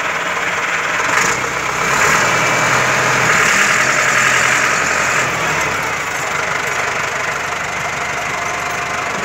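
A Massey Ferguson 385 tractor with an emptied trolley, stuck in a field, runs its engine at a loud, steady rumbling idle throughout, close by, with no talking.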